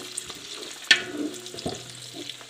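Onion, about a kilogram, fries in a pan with a soft sizzle and a few sharper crackles and stirring knocks, fairly quiet and uneven over a couple of seconds.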